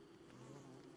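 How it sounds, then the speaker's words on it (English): Bees buzz in the survival video game Don't Starve, a close, steady insect drone that holds at even loudness for the whole second. "all this buzzing's going to make us insane"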